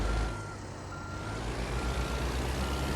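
A truck in American Truck Simulator backs up, its reversing alarm beeping steadily over a loud, low engine rumble.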